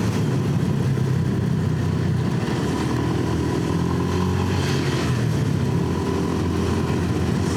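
A motorcycle engine pulls steadily on a national road in the Garut–Sumedang area, its close, continuous drone holding a strong low rumble throughout with no voices.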